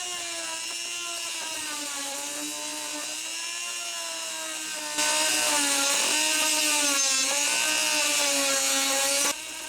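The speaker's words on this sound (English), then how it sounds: "I think my rotary tool with just a coarse sanding drum should do the trick" A rotary tool fitted with a coarse sanding drum grinds into a thin fiberglass-and-foam camper compartment door, a steady high-pitched whine that holds for several seconds, then grows louder and harsher as it bites, with no talking.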